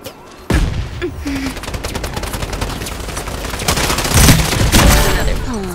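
Rapid gunfire bursts from the hero shooter Strinova, a dense volley of close, loud shots that builds through the clip alongside explosive booms, with a short sparse lead-in before the fire opens.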